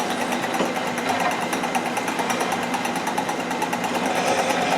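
Drill boring dry through a steel rear-end bracket for an old #7 modified race car, a steady, harsh high-pitched grinding whine held continuously and close, with no voices.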